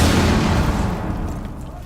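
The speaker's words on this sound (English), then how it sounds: "Ooh, grenade. Throwing frag." A frag grenade explodes in a competitive esports video game match: a loud, broad blast that opens the moment and fades into a rumbling tail.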